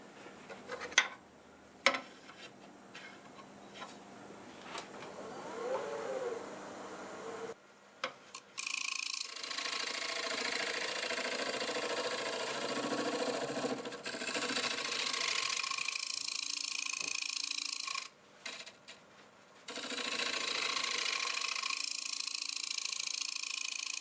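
Steel scraper working a wooden turning on a spinning lathe, a steady close broadband hiss of tool against wood with brief pauses and restarts.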